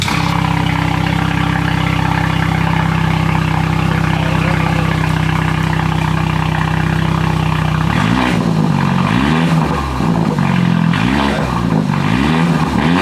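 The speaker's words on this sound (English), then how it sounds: "Rev it up for him real quick to end it off." BMW 330i with aftermarket black exhaust tips holds a loud, steady idle, then its engine is blipped in several quick rising and falling revs, close up and continuous.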